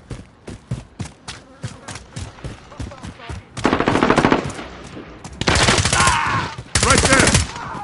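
Call of Duty: Modern Warfare gunfire: a string of evenly spaced single shots gives way to loud, sustained automatic bursts, close and punchy, with brief gaps between volleys.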